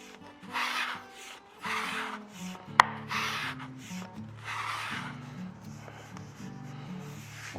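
A piece of pink ivory wood is sanded by hand, with a series of rasping strokes close by, separated by short pauses, and one sharp tap partway through.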